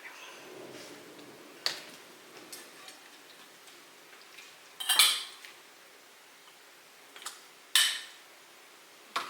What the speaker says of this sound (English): Let me get this stirred up a bit.